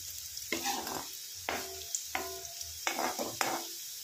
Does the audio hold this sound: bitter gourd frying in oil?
yes